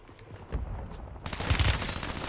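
Gunfire in the video game Warzone: loud bursts of automatic shots crackle in rapid succession, building into a dense, sustained fusillade that grows stronger partway through, heard up close with no talking.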